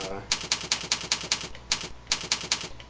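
Quick, steady clicking of keys on a computer keyboard, close and crisp in short regular runs with a brief pause midway, with a voice talking over it.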